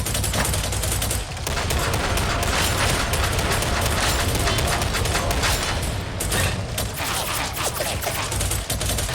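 Sustained heavy gunfire from enemy ranged attacks in Warhammer 40,000: Darktide, a dense, loud barrage of overlapping shots and bursts with mechanical clatter running continuously, with only a brief dip.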